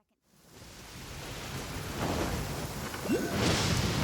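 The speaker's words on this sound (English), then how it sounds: "Thunder and lightning can be quite frightening" A thunderstorm in the Genshin Impact video game: steady rain swells in from silence, joined by a low rumble of thunder building toward the end, dense and continuous.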